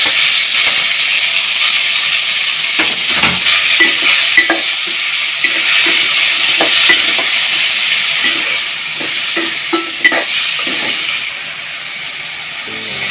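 Chopped onions and tomatoes sautéing in a pan for a potato and fish curry, a loud continuous hiss and sizzle with intermittent scraping stir strokes, easing slightly toward the end.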